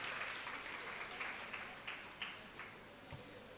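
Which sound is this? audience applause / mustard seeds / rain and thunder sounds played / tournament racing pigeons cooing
audience applause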